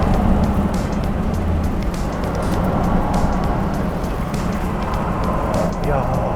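Inside the Hyundai N Vision 74 hydrogen-electric hybrid supercar on the move, a loud, steady broadband roar of road and drivetrain noise continues without a break throughout.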